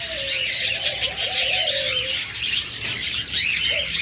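Red-eyed albino and lutino budgerigars or cockatiels chirp from close by, a lively stream of high tweets and warbling calls over a steady aviary background, with no one speaking.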